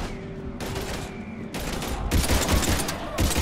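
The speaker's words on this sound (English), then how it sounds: "we're taking heavy fire" Heavy gunfire in a Mass Effect 3 firefight against Husks, bursts of rapid shots coming in waves with short pauses, dense and loud throughout.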